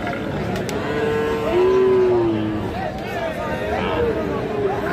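Sahiwal bull calves moo at a busy rural cattle market in Ghoraghat, Dinajpur, with several drawn-out calls rising over a steady crowd babble of many voices.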